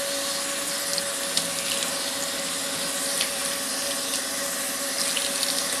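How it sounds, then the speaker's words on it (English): Tap water runs steadily into a sink, a constant close hiss and splash with a faint hum beneath and no speech. "So you just turn on the water."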